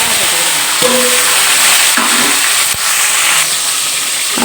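Mustard seeds, onion and tomato frying in hot oil for a banana-flower kofta curry, a loud continuous sizzle and hiss close up, with a few clinks of a utensil against the pan.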